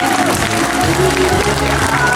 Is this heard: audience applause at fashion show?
yes